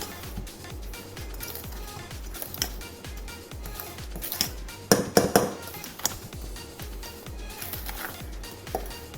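Maladu laddu mixture being stirred in ghee in a pan, a steady rhythm of scraping and metallic clinks from the spoon against the pan, with a few louder knocks midway.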